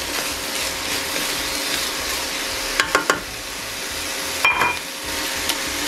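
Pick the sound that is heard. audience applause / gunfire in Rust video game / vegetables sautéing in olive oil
vegetables sautéing in olive oil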